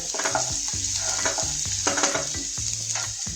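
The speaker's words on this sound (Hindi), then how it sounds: "इसमें डालना है प्याज, गार्लिक, अच्छी तरीके से सौते करेंगे" Onion and garlic sauté in hot oil in a pan, a steady bright sizzle broken by repeated rhythmic scraping strokes of a spoon stirring, close and loud with no talk.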